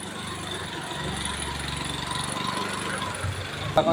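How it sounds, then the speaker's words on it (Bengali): A motorbike pushes through floodwater whipped into waves, its engine a steady low drone with churning water, faint voices in the background and a sharper knock near the end. "দেখেন কি সুন্দর আসছে বাইকটা, দেখুন ভুঁড়িটা নিয়ে জলের মধ্যে দিয়ে বেরিয়ে মোটাদা"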